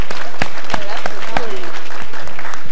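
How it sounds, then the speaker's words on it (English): Applause at a youth engagement forum for the mayor and a co-host, loud and close with a few sharp individual claps standing out, while a voice talks over it. "I want to ask you to give the mayor and Joe Claire a round of applause for the great conversation they led today"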